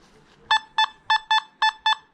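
A Nokta Makro Simplex metal detector sounds three quick double beeps, crisp, evenly spaced and close, as its coil sweeps over a £1 coin lying on the surface.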